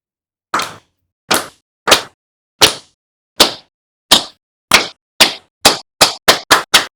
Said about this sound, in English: an isang bagsak is a slow clap with no practice